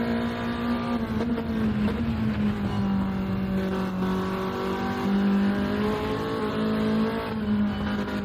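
A touring race car at the ERF Tourenwagen Legenden support race pulls up through the gears on track, its engine droning loud and close in steady pitch climbs and drops with each shift, with no talk.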